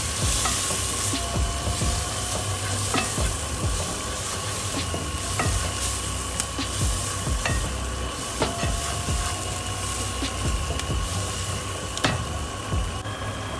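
Curry powder frying with onions in a pan for chakalaka, a steady close sizzle with repeated scraping knocks of a utensil stirring against the pan.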